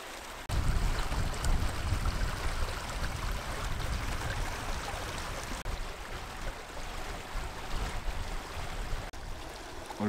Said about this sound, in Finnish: olipa mielettömän hieno puro vielä täällä.